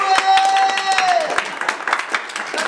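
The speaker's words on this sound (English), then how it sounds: "Keep the energy and clap" Audience applause at a Black History Month Wales panel event on funding in Wrexham, with dense, steady clapping lasting the whole moment and a thin whistling tone ringing briefly through the start.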